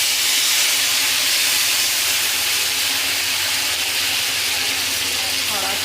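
Besan (gram flour) frying in a hot kadhai gives a loud, steady, steamy hiss that runs unbroken throughout.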